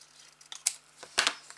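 Scissors cutting a freehand-marked piece of paper for a pop-up butterfly card, a few quick crisp snips close by with no talking.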